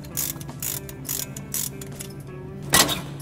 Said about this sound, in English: what I'm doing now is I'm removing the caliper from the carrier to get to the brake